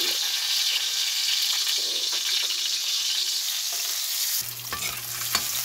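Onion sautéing in hot oil makes a dense, close sizzle, broken by occasional stirring scrapes, and a low steady hum joins near the end.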